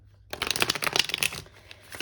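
A tarot card deck is shuffled by hand in one quick, crisp riffling burst that starts abruptly and tapers off, close up with no talking.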